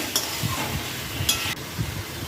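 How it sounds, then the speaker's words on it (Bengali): Fried eggplant being stirred in a pan for mourala fish chorchori, with a few soft scraping strokes and two brief sharp clinks over a low, steady background. "তারপর আমি এতে অ্যাড করছি সেই যে ভেজে রেখেছিলাম বেগুনগুলো দিয়ে আমি আবার একবার নেড়ে নিচ্ছি"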